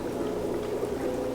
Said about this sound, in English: I got to put some more water in here